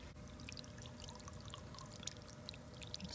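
Near-freezing water rushes steadily through a pump on a solar-powered heat pump, a continuous pouring, splashing stream with faint clicks scattered over it.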